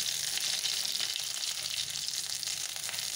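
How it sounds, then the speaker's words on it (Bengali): Boiled potatoes fry in hot oil with a steady, dense sizzle that stays loud and unbroken, with no voices. "আলুগুলো আগে ভেজে তুলে নেব।"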